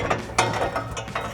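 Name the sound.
exhaust hanger remover tool popping out rubber isolator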